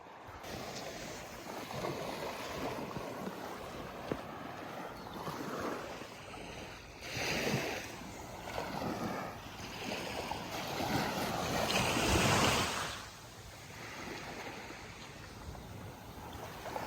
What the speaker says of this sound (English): pit stop at the beach